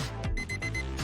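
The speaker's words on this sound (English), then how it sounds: "The correct answer is an alarm clock." An alarm clock rings with rapid, repeated ringing pulses, loud and continuous throughout, with no voices.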